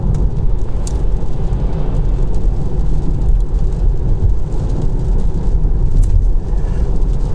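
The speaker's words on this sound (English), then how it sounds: "mainly it's raining now" Rain patters and washes over a Tesla electric car, heard from inside the cabin as a steady low rumbling hiss with faint scattered taps and no voices.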